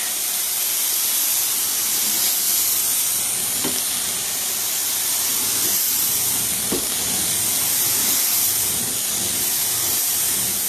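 Steady, loud hiss of a grease-cutting treatment being sprayed while carpets are cleaned, continuous and close throughout with no pauses.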